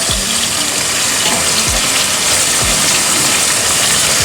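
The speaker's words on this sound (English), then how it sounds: "and now we're just going to fry these, sear these until it's locked up and then almost cooked" Okra searing in a hot pan, a steady loud sizzle and hiss of frying with faint low knocks underneath.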